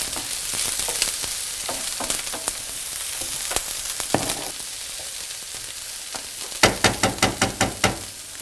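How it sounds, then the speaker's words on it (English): Bell pepper, garlic and chili stir-fry in a hot pan, a steady close sizzle broken by scraping stirs and a quick run of rhythmic clanks from the utensil near the end, with no speech. "We're gonna add our bell pepper, garlic and chili. We're just gonna stir it a quick stir for 1 minute."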